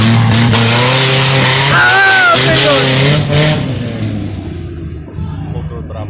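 A jeep engine roars and revs hard during a mud rally, loud and close, the pitch rising and wavering before the throttle eases and the growl fades toward the end.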